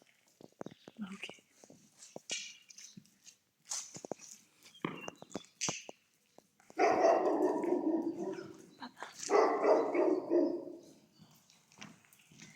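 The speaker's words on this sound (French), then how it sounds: "Les chiens, ils font trop bien leur travail." Dogs bark from somewhere inside an abandoned cheese factory, in loud repeated bursts after a quieter stretch of footsteps and shuffling, with voices speaking nearby.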